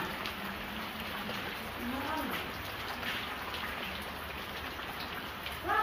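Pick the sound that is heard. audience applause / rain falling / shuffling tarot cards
rain falling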